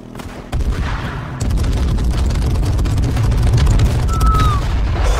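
Dense bursts of booms and crackles go off like fireworks during a raid with improvised explosives in the online survival game H1Z1, loud and continuous and swelling after the first second, with no speech.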